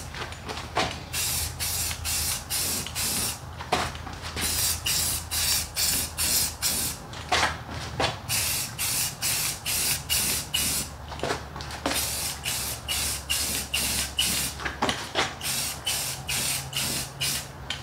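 Spray gun hissing in repeated short bursts as a vintage 1956 oval-window Volkswagen Beetle wheel gets a second thin coat, the sweeping passes close and loud with brief pauses between, over a low steady hum.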